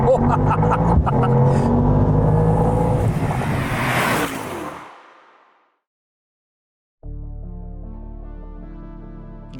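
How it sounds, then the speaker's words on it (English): A loud Mercedes-AMG GT 63 Pro engine revs hard and growls for about five seconds, then cuts off into silence before a steady tonal hum starts. "AMG GT is loud, angry and searing hot"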